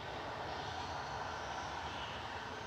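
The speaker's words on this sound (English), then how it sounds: "Cathay Pacific on approach" A Cathay Pacific airliner on approach to Manchester Airport, a faint, steady distant jet roar spreading evenly across the whole stretch with no talk.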